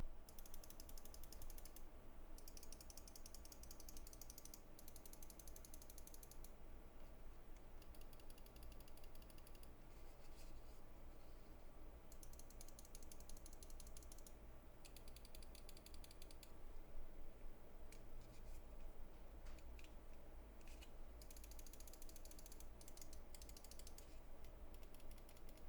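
Button clicks from a Glorious Model O wireless mouse, a quiet, close run of crisp mechanical ticks repeating over a low background hiss.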